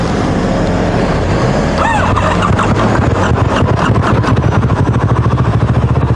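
Motorcycle with a snapped clutch cable being bump-started, engine catching and running in loud, rapid pulsing firing beats close by, rising in pace through the later seconds.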